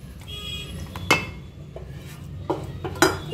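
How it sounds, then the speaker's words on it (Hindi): Mixer grinder jar picked up and set down in a kitchen, a few sharp hard clinks and knocks scattered over a quiet background. "अब हम मिक्सचर जार लेंगे"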